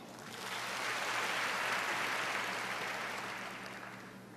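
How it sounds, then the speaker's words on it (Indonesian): Congregation applause during a church prayer service at Graha Bethany Nginden in Surabaya: sustained crowd clapping that swells over the first second, holds steady, then tapers off, with no talking. "Tepuk tangan."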